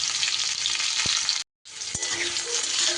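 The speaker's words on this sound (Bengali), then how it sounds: "একটু আলুর সাথে কাঁকরোলটাও বেশ নাড়াচাড়া করে নিতে হবে।" Potato and spine gourd fry in hot oil while being stirred, a steady, bright sizzle with two dull knocks of the spoon against the pan, briefly cutting to silence midway before the loud, close crackle resumes.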